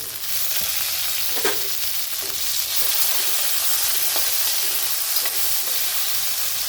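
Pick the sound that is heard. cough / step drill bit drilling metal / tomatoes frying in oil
tomatoes frying in oil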